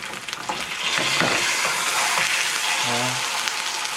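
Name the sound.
salmon fillet pan frying in a pan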